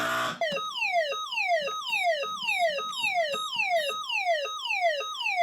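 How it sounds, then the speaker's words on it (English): A Moose Z1100e security alarm from a salesman's demo briefcase wails loudly in repeated falling electronic sweeps, each rapid downward glide repeating about every half second, steady and close with no talk. "Now the siren's going off."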